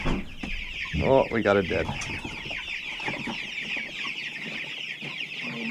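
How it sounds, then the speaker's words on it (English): Chickens and chicks cluck and chirp loudly on a farm during a wind storm, a busy, continuous flock sound with someone speaking briefly over it. "Sounds like the chicks are hungry or thirsty."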